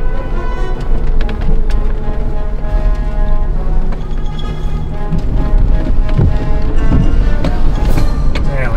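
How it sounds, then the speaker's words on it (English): Steady rain pattering outside a Ford Bronco on a slick, muddy mountain pass at Black Bear Pass, a loud constant wash mixed with wind buffeting and low rumble, close and continuous throughout. "like it's gonna keep raining"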